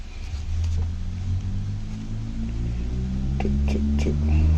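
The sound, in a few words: cars passing by outside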